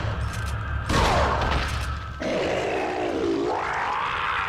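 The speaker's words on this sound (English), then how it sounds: "Keep firing until he dies." Gunfire and heavy booms from Resident Evil 4 fill the opening seconds loudly, followed by a sustained rumbling, sweeping game sound.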